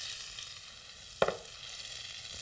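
Lightly cooked potatoes fry in oil in a skillet for corned beef and potato hash. A steady, soft sizzle continues throughout, broken once midway by a brief clatter.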